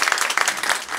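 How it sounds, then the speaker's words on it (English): A crowd at a health center opening claps for the doctor, a brief burst of close, dense applause with sharp individual claps. "So let's give him a big round of applause."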